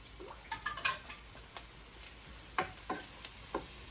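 Celery, onions and carrot sizzle softly in a pan while a utensil stirs them, giving quiet frying hiss broken by several sharp scraping and clacking strokes, near and faint.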